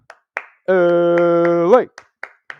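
A podcast host leads a Bruins fan chant with a handful of sharp, close hand claps, spaced before and after a long shouted word.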